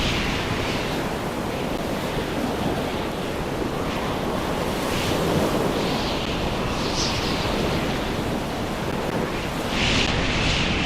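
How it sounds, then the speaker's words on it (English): Ocean waves in a snowstorm in the video game Stormworks, a loud, unbroken roar of surf and wind that fills the scene steadily from start to finish with no voices. "These waves are getting worse and worse by the second"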